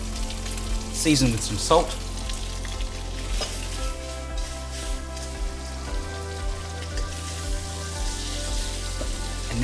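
Prawns sizzling steadily in a hot wok for a ginger and spring onion stir-fry, with intermittent tossing and scraping over a continuous crackle; a voice speaks over the cooking.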